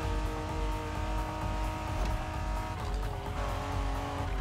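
A car driving in The Crew Motorfest, with a continuous loud engine drone and brief tire squeals. Steady and close throughout, with no talking.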